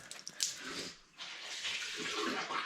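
Water splashes and runs out of the drain filter of a Samsung washing machine in a bathroom, a close, quiet trickle that swells into a steadier gushing flow.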